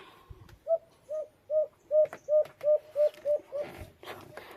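A dove coos in a steady series of about nine soft, evenly spaced hooting notes, close by, with faint background noise.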